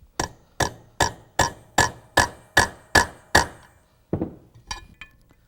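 Hammer tapping a rivet into a Rolls-Royce early post-war brake shoe: nine crisp, evenly spaced metallic strikes ringing close and loud, followed by a few lighter, irregular taps as the work finishes.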